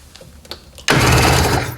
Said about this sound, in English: I'm going to crank it over.